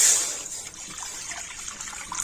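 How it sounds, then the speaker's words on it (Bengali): Water poured into a kadai, a soft steady trickling splash close by, running continuously for a couple of seconds with no talk. "এবার আমি কড়াতে দিয়ে দিচ্ছি জল"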